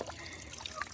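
Water trickles in a brief, faint, steady stream as it is poured into a mouth for rinsing, outdoors in a village setting.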